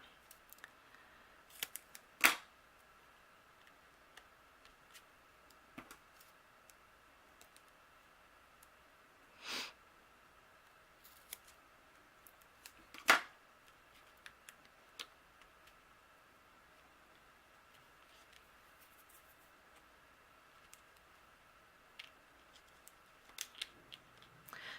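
Scissors snip paper pieces for a dangling charm card, with a few soft, sparse cuts spread across a quiet stretch and faint handling ticks between them.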